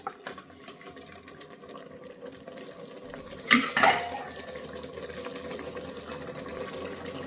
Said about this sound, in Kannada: ಇವಾಗ ನಾವು ರುಬ್ಬಿರುವಂಥ ಮಸಾಲೆನ ಹಾಕ್ಕೊಳ್ಳೋಣ.